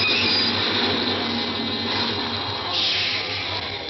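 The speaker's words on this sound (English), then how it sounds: "The subway stopped." Radio drama sound effect of a subway train coming to a stop: a loud, steady rumbling roar of the cars with a rising metallic squeal of the wheels near the end, and no voices.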